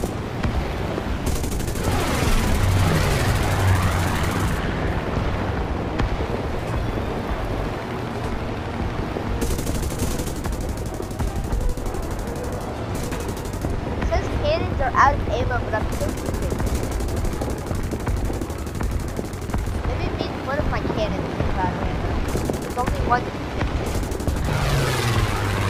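Aircraft machine guns in War Thunder rattle in long bursts across a busy air battle, with engine drone and occasional booms underneath while a player talks over the action.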